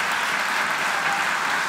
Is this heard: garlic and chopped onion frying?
no